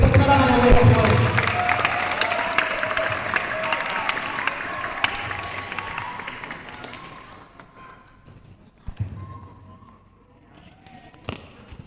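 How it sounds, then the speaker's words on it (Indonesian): Audience applause and cheering at an Indonesian Ramadan TV show, loud at first and gradually dying away into near silence, with a few scattered claps and thumps near the end. "Beri tepuk tangan untuk semua."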